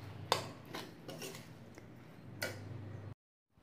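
Shark puttu being stirred dry in a pan, giving a run of light scraping and clinking strokes at an uneven pace, fairly close, that ends abruptly into silence.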